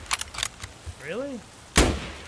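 A single loud gunshot from a Mosin rifle in the video game Escape From Tarkov, cracking near the end after quieter clicks and a brief tonal whistle.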